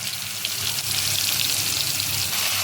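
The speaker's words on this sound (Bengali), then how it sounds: "আলুটা ভাজা হবে" Potatoes frying in a pan with cumin and bay leaves, a steady close sizzle with watery crackle that holds even throughout, no voices.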